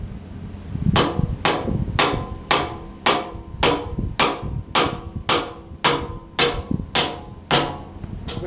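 Steel hammer blows driving new teeth into a sawmill blade on a hammer bench: about fourteen sharp, ringing metallic strikes in a steady rhythm, close and loud with no talking.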